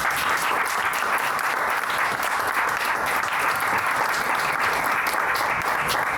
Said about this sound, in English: So please join me in a loud applause for the panel.